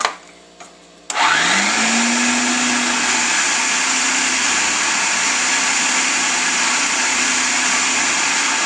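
A food processor whirs loudly as it kneads pizza dough. The motor kicks on after a brief quiet start and then holds a steady, close, droning hum under a falling-then-level pitch. Someone murmurs a single word just before.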